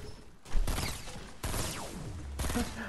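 Bursts of gunfire in a Fortnite match: three sharp volleys roughly a second apart, each a loud crack that trails off into a decaying rattle, with no voices over them.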